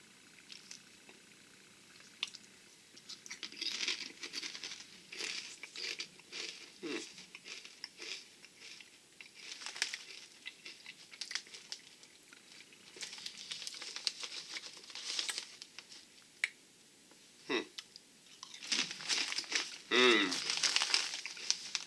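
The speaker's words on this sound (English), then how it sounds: "That one had a good crunch." Jalapeño cheddar kettle-cooked potato chips being chewed up close, a run of crisp, crackly crunches in uneven bursts with short pauses between bites and a louder flurry near the end.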